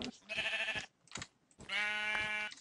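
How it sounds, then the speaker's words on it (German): Two bleats from a sheep in the video game Minecraft, a short one and then a longer one after a brief pause, close and clear with no speech. "Blödes Schaf."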